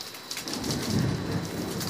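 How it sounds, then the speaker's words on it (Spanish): A long, deep rumble of thunder in the video game Five Nights at Candy's rolls under steady heavy rain, moderately loud and continuous throughout. "Otro trueno."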